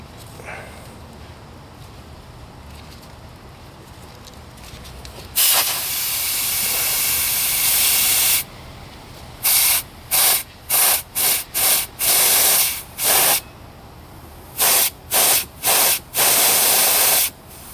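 Car AC charging hoses, connected for a refrigerant recharge, hiss sharply as air is pushed out: one long burst, then a rapid series of short hissing spurts separated by quiet gaps.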